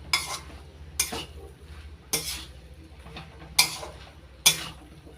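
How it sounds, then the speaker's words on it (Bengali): Ghee and garam masala being stirred into a banana flower and prawn curry in a pan: five sharp metallic clanks of a spoon against the pan at regular intervals over a faint sizzle, near and clear. "এবার গরম মশলা ঘি মোচার সঙ্গে ভালো করে মিশিয়ে নিচ্ছি।"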